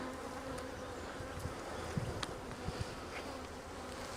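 A dense, close swarm of honeybees buzzes steadily and quietly as they are shaken into a spring hive split, with a few soft knocks and bumps.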